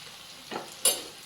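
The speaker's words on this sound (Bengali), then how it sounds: "এখন মশলাটা আমি ভালোভাবে কষাই নিব।" Ground chilli, cumin and coriander spices in a pan for a fish and potato curry give a faint hiss and two short scraping stirs, the second sharper and louder.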